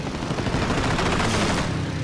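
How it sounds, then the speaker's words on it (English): Japanese Zero fighter planes firing their cannons in a WWII Pacific dogfight: a dense, continuous roar of rapid gunfire bursts, loud and close, filling the whole stretch with no voices. "One Zero turns towards him, streaking in, cannons blazing."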